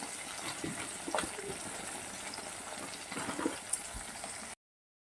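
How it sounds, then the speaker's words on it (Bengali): Bata fish frying in a pan, a steady close sizzle and crackle of hot oil running unbroken for several seconds, then cutting off abruptly near the end. "বাটা মাছ একটু ভালো করে ভাজতে হয়"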